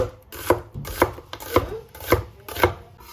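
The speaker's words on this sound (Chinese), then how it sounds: "改刀给它切成洋葱丝" Knife slicing an onion into thin strips on a cutting board, crisp regular chops about every half second, close up and clear with no talking.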